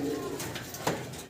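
A pair of yellow Bombay pigeons gives a soft, low cooing call, a brief muffled coo heard close by and fairly faint.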